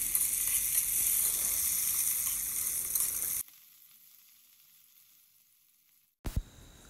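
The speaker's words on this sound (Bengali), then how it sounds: "এখন পেঁয়াজটাকেও আমি একটু হালকা ভেজে নেব" Chopped onion and cumin frying in oil, a loud hissing sizzle for a few seconds that cuts abruptly to near silence, followed by a brief thump near the end.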